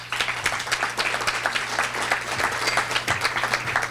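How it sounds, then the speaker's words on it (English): Audience at a chamber of commerce gathering claps for a county commissioner, a dense, continuous patter of many hands lasting several seconds over a faint electrical hum. "Let's give him a round of applause."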